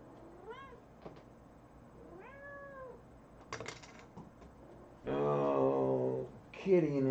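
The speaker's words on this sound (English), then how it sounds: "Damn cat." A house cat meows several times, starting with short rising cries and ending in two louder, drawn-out wails near the close, with some knocks and faint talk in the room between calls.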